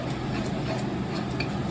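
Fried shallots are scooped from hot oil with a utensil and drained, giving steady close scraping and light clinks over a faint sizzle.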